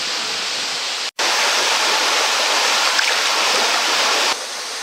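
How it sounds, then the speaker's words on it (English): Water rushes steadily through a canal lock, forming a loud, dense, unbroken roar close by, with one brief cut near the start. "You can probably hear lots of flowing water."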